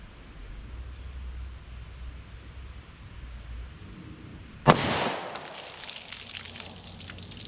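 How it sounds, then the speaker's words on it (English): A single sharp gunshot from a .327 Federal Magnum revolver cracks out after several seconds of quiet outdoor background hiss, its report decaying into a short noisy tail. "let's try the 327 Magnum and see how that compares"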